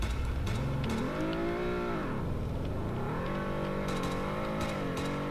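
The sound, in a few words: Honda Civic car engine in Roblox video game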